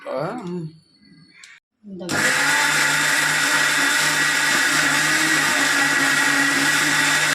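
A mixer grinder whirs steadily and loudly, grinding spices into black chilli powder, a constant high motor drone that starts abruptly after a short stretch of speech and runs on alone.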